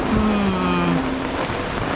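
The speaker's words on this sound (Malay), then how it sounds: "Hujan lah Arif?" Steady rain falls at a glamping site in Tingkat Valley, a dense continuous hiss filling the whole stretch with a faint tonal hum passing briefly underneath.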